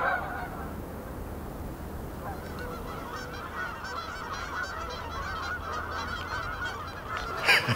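A large flock of Canada geese in the Nebraska Sandhills honks steadily at a distance, many overlapping calls forming a continuous clamor.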